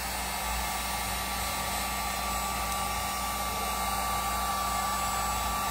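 A heat gun blows hot air onto heat-shrink tubing over a repaired laptop power cord, producing a continuous, steady rushing whoosh with an underlying hum that stays level and close throughout.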